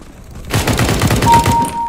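Desert Eagle pistol shots in CS:GO deathmatch on Dust II, a quick run of loud, closely spaced heavy cracks starting abruptly and continuing to the end.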